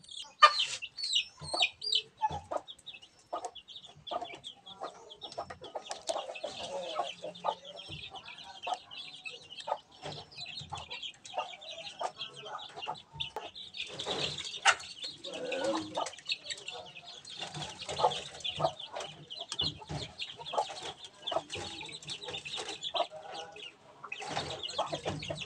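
Crossbreed chicks cheep and cluck in a brooding pen, a continuous busy chorus of small birds with occasional wing flutters, fairly quiet and close, with no talking.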